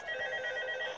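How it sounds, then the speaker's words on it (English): A telephone rings in the video game Five Nights at Freddy's 2, a continuous electronic ring that is steady and fairly clear across the whole moment, with no voices. "Let's listen to the phone call."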